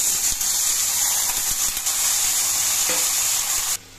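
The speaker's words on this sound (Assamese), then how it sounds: "এয়া মই গোটেইখন তৰকাৰী অলপ লৰাই দিম" Vegetable curry sizzles and fries in a pan while being stirred, a steady close hiss with scraping stir strokes, ending abruptly near the end.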